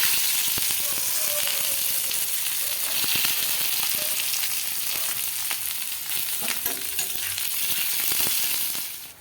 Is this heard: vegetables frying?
yes